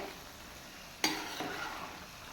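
A single scrape of a spoon through chicken mandi rice in a pot, quiet and brief, with a faint sizzle underneath in a home kitchen.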